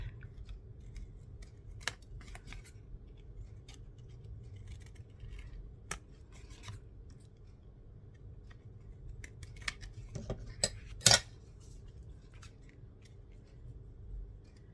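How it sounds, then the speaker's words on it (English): Scissors trimming paper for a junk journal, heard as a few faint, sparse snips and clicks over a low background hum. "I think I'm going to just trim that around there, like that."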